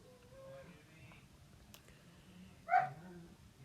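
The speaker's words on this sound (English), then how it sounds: "that's my dog in case you didn't know what that barking was." A single short dog bark rings out in the distance, over quiet background noise and faint talking.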